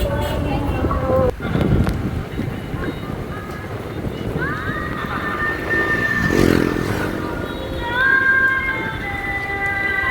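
A motorcycle engine hums steadily over wind rumble on the mic, with voices and busy street noise around it during a festival outing to see Durga Puja idols.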